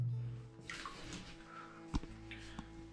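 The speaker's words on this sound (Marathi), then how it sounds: "हे जे पाणी जे अभिषेक होतोय त्या अभिषेकाचं पाणी इकडे येते." Abhishek water trickles and splashes from a Shiva linga inside the ancient Dandoba cave temple near Miraj, Sangli, a faint close dribble with a couple of sharper drips.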